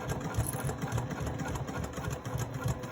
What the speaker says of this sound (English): So let's keep stitching.